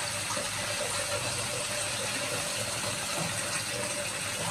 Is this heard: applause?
no